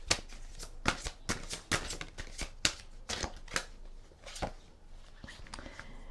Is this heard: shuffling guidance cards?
yes